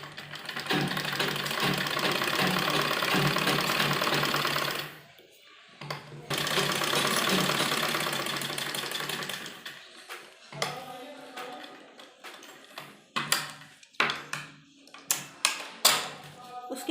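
Sewing machine stitching the neckline of a kurti, with two sustained whirring runs separated by a brief stop, followed by a string of short choppy bursts as the fabric is guided, close by.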